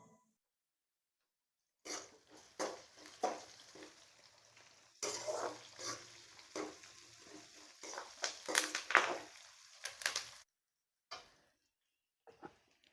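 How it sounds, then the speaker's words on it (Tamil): Onions, green chillies and curry leaves are sautéed in a pan for crab gravy, giving off soft crackling sizzles and scraping stirs in irregular bursts, fairly quiet and close, with silent stretches at the start and end. "கொஞ்சம் கருவேப்பிலை சேர்த்து போட்டு வதக்கணும்."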